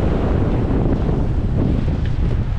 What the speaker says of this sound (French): Il y a 20 nœuds de vent apparent là.